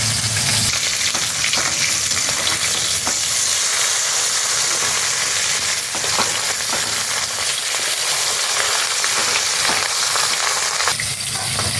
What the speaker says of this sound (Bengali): মাছগুলোকে আমি ভেজে নেব।